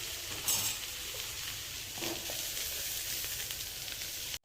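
Kurdu greens steam in a little oil under a lid, giving a steady, soft hiss with a few faint crackles and no talking.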